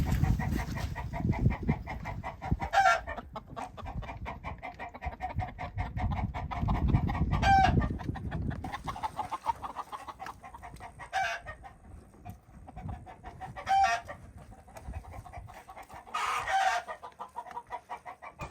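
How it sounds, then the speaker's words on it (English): Backyard chickens cluck steadily nearby in the morning, with several brief sharp squawks breaking through at intervals over a rustling, low background. "Gonna let the chickens out this morning with Brutus"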